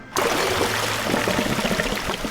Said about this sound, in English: draining the water.